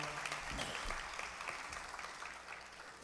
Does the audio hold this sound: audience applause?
yes